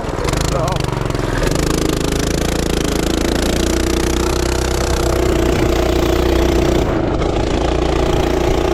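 A Coleman B200R minibike fitted with a torque converter and an aftermarket exhaust pipe runs loud and steady nearby, a constant buzzing engine drone that holds level, with a brief shift in tone near the end.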